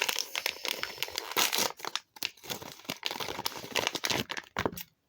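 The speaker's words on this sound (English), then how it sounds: "Well, okay, Sandy Summer, let's get you out the packaging." A doll toy is pulled free of crinkly plastic packaging, giving close, loud bursts of crumpling and tearing with brief pauses between handfuls.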